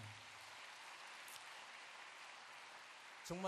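Steady audience applause at a gathering, a dense even wash of clapping held at moderate distance throughout, with a brief sharper sound near the end.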